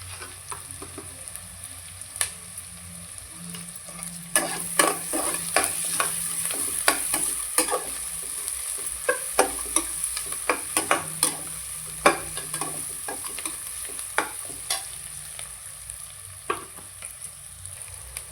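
Onions frying with a pinch of salt in a pan for soya biryani, a steady close hiss of oil under repeated scraping and clattering stirs, irregular spoon knocks throughout with no voices.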